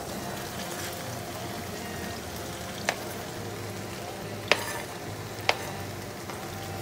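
Sliced mushrooms fry in an oily marinade, with a continuous moderate sizzle and a few sharp scrapes and clicks from stirring spaced through the sizzling.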